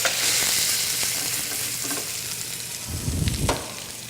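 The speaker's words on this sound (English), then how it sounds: "I'm going to sear it in this pan here." Pork tenderloin stuffed with wild rice and dried blueberries sears in olive oil over medium-high heat, giving a steady loud sizzle with a brief burst of spattering toward the end; no one speaks.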